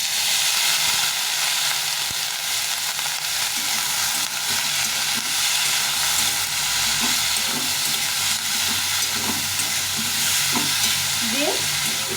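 Vegetables frying in a pan with turmeric as water is added, a loud continuous hiss and sizzle with occasional stirring scrapes, close and unbroken, no talking.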